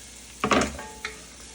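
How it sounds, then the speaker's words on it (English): Onions and carrots are stirred in a pot for marinara sauce, giving a short scraping burst of spoon through the vegetables over a steady soft sizzle, followed by one brief clink. "we're just gonna stir this up a little bit"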